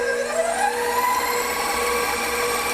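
An electric mixer whizzes blondie batter of eggs and other ingredients, a loud continuous motor whir with a steady rising whine that runs unbroken for a few seconds and no voices.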